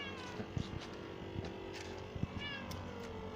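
A cat meows repeatedly up close, short cries over a low background hum, with small clicks and rustles between them.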